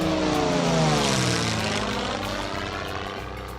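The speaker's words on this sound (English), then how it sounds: "red planes fly high in the sky" A red propeller airplane flies by overhead, its engine drone loud and steady with a slowly shifting pitch as it passes, slightly fading toward the end.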